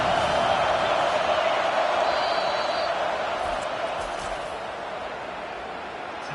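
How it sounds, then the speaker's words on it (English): A home crowd roars at an Auburn football game against Georgia on third down, a steady, loud stadium rumble that swells and then eases slightly. A voice speaks faintly underneath. "Here comes this home crowd as the defense tries to get off the field on 3rd down."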